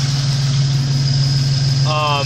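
A 2000 Toyota Tacoma truck engine idling steadily, a close, even low-pitched rumble with a constant hum and a brief higher whine near the end.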